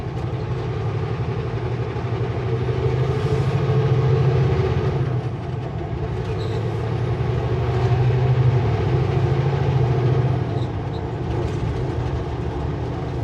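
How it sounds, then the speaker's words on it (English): A coal train rolling past near Kamloops, heard as a steady low rumble and drone that swells and eases over several seconds, with faint high squeals of wheels on rail. "And another coal car, or coal train."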